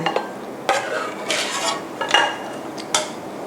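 Steamed pomfret being eased onto a serving plate, giving a few scattered clinks and scrapes of utensils against dishes, close and moderately loud with short gaps between them.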